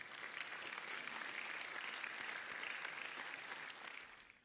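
Dense audience clapping, a fast even patter of many hands sustained for several seconds at moderate distance, then tapering off at the end.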